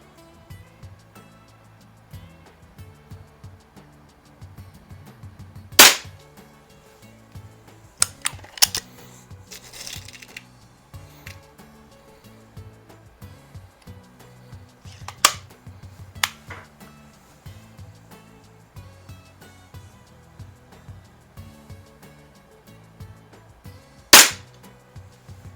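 Air pistol shots from a Baikal IZH-46M or Weihrauch HW70 firing pellets at targets: a handful of sharp, isolated cracks spaced several seconds apart, with quieter handling clicks in between.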